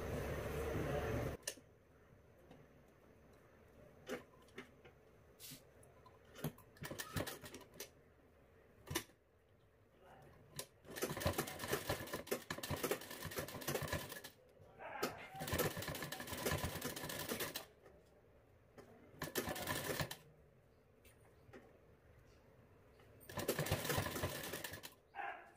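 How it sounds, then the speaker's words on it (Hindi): A sewing machine stitches piping onto a blouse in several separate bursts of fast, steady whirring, each lasting a few seconds, with quiet pauses between them, heard up close. "इस तरह पाइपिंग बनाते हुए इस पर सिलाई लगा देंगे।"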